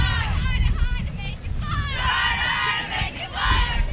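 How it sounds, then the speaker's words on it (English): A large crowd at a high school softball semifinal roars and shouts together, a loud wash of cheering voices and babble with excited calls rising over it. "Big crowd here today watching these two teams go at it"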